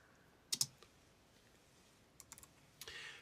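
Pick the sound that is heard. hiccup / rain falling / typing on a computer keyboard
typing on a computer keyboard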